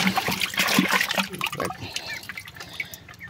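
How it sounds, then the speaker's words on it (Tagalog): Fetched water poured and splashed in a container for mixing Triple X shampoo, a close, uneven sloshing and dripping that tapers off toward a quieter trickle. "ito na yung nigib natin tubig na paglalagyan natin ng shampoo"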